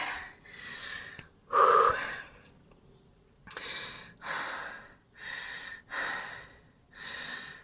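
A person breathes heavily after cardio interval exercise, with a rhythmic series of loud, close panting breaths and gasps, including one sharp wheezing inhale, and no talking.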